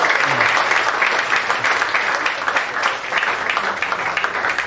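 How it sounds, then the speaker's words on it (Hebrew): Sustained applause from an audience at an end-of-year choir concert, a dense steady patter of many hands clapping throughout, moderately loud and fairly near. "כפיים לרינת"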